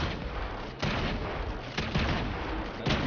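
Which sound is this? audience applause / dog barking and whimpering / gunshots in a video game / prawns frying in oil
gunshots in a video game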